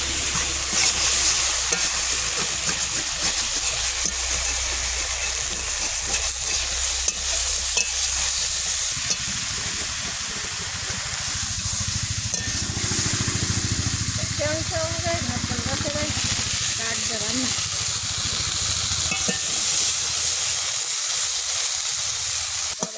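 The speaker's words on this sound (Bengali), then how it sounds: "সকালে নিম বেগুন ভাজা ভালো লাগে" Neem leaves and eggplant fry in a pan with a steady loud sizzle and hiss, stirring scrapes breaking through, a lid briefly lifted partway, continuous throughout without talk.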